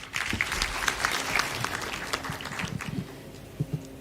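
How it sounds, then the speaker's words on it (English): An audience at an East African small-business trade fair applauds a speaker, continuous mid-level clapping from a hall that thins out toward the end with a few louder individual claps. "Another round of applause, please."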